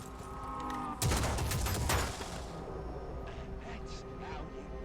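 A burst of video-game gunfire opens up for about a second, loud and dense, over a steady backdrop of game sounds, with fainter shots trailing off afterward.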